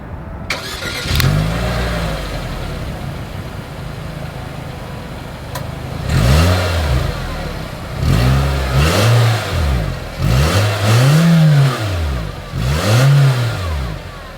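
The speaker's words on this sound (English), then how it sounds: "As always, here is that exhaust clip." A 2024 Nissan Kicks starts up, settles into idle, then revs in a series of short blips, each rising and falling sharply, recorded close to the exhaust outlet with no talking.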